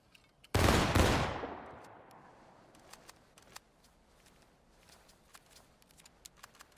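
A rear-rank musket volley in the War of Rights game fires as one loud, crashing blast that rings out and decays over about a second, followed by scattered distant shots and faint clicks.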